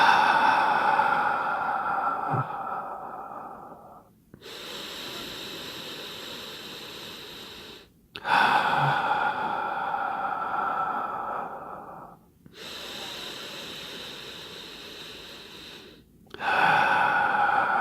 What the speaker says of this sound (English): we're going to just keep on breathing